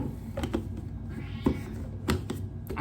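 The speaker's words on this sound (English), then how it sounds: "he just doesn't stop meowing" A cat meows repeatedly, several short insistent cries spaced about half a second apart, close by over a steady background hum.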